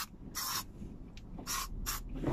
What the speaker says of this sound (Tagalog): mag-spray din ako ng Lysol disinfectant